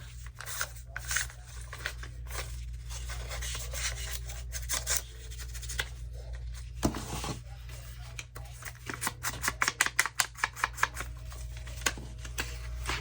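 A distress tool is rubbed along the edges of glued index cards in quick, dry scraping strokes, close and fairly quiet, ending in a fast run of sharp rasps.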